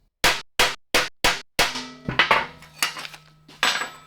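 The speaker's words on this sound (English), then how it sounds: "I'm just gonna lightly punch where I want the holes in this" A punch is tapped lightly with a hammer to mark hole positions in metal while building a Honda chopper; five sharp evenly spaced metallic strikes ring out close up, followed by several more irregular, ringing taps.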